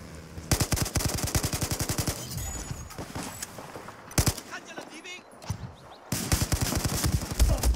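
Gunfire in the Battlefield 4 video game, with bursts of rapid automatic fire broken by single shots and brief pauses, loud and close, and a voice talking between the bursts.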